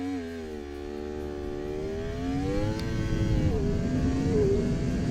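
A motorcycle engine holds high revs for a launch-control start at about 10,000 rpm, a loud close rising whine that dips slightly and then settles into a steady roar as the clutch engages.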